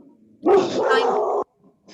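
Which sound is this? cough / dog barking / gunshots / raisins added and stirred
dog barking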